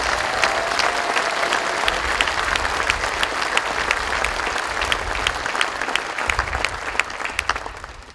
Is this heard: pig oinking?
no